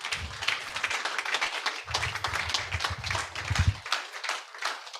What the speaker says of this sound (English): I'm not sure Olumide earned the applause